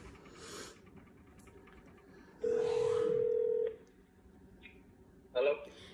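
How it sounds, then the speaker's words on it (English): A phone call placed on speakerphone, with a single steady ringback tone sounding for about a second amid faint background voices, followed by a short electronic chirp. "Hopefully he answers because I'm calling from Adria's phone."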